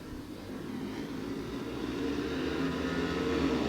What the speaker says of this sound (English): Lars Munkedal's got a reasonable start, and Scott Lamb's come tearing through.